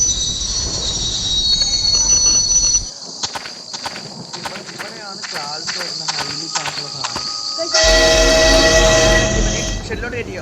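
A train in a multiplayer spider horror video game rumbles and clatters along the rails, with squealing wheels and rhythmic clicking. Game ambience shifts abruptly partway through, and voices talk over it.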